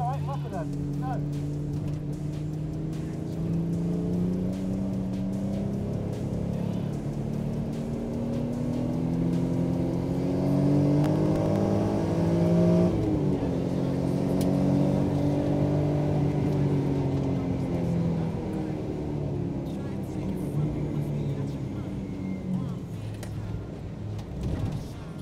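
A car accelerating hard with wheel spin around the Donington race circuit, heard from inside the cabin: the engine drone climbs steadily in pitch, eases briefly, then climbs again, with a constant road roar and occasional voices.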